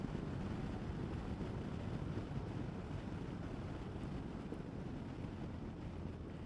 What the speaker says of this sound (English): I do want to hear some wind